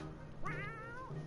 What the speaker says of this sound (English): Yep, it's a kitty cat!